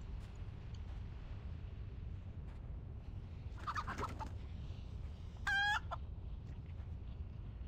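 An ash chicken in a video game gives two short bursts of clucking and gobbling calls, the second a quick warbling trill, heard alone over a low ambient hum.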